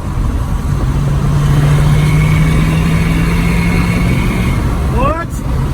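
A Ford F250 pickup truck on 37-inch tires runs with a loud, steady engine rumble and drone close by, holding a constant level. A brief rising whine and a few squeaks come near the end.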